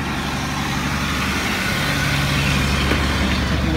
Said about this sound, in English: I've got the car running now.